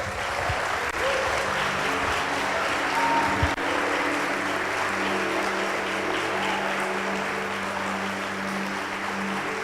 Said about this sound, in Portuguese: Vamos aplaudir Jesus aí